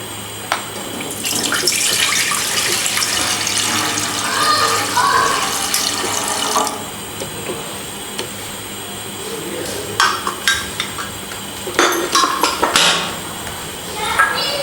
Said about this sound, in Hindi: अब हम इसमें दूध डालेंगे।